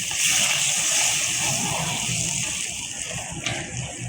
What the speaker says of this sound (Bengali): আমি সামান্য একটু জল দিয়ে দিলাম।